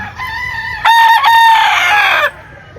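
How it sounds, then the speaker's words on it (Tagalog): Chickens and roosters at a poultry spot, one rooster crowing loudly up close with harmonic, drawn-out calls while other fowl cluck in the background. "Daming manok dito mga bossing"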